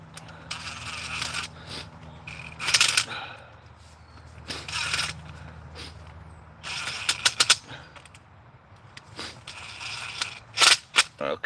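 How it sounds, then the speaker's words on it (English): Screws are driven in with a tool in intermittent bursts of sharp ratcheting and mechanical clicks, close up. A low hum sounds in the background between the bursts. "Okay, and then we just run the screws in."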